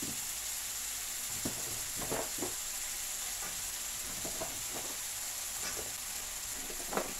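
Shrimp and pumpkin sautéing in a pan for ginisang kalabasa, a steady close sizzle with scattered stirring scrapes and clinks throughout.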